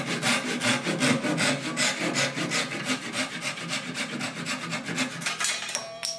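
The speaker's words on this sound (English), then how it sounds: "I'll cut these two using the ripping teeth" Hand saw using its ripping teeth to cut wooden dowel plugs flush, a rapid, steady series of rasping back-and-forth strokes, close and loud, with no talking.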